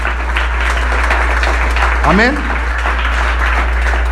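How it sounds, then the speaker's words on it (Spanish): A church congregation applauds during a Spanish-language Christian sermon on a Sunday morning, a steady wash of clapping lasting several seconds with a voice speaking over it. "Le damos un aplauso a Cristo en esta mañana."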